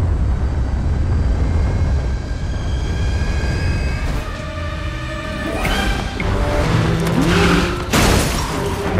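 An airplane in flight during stunt filming for an action movie roars with wind rush, then sharp whooshes and bursts cut in toward the end, with tonal engine whines rising and falling, loud and close.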